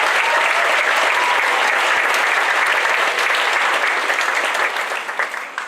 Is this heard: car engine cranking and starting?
no